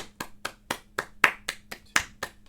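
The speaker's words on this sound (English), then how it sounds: "continually clap 16ths" Hands clap in a steady, fast run of sixteenth notes as part of a duo rhythm exercise, the sharp claps close and evenly spaced with light accents, no talking.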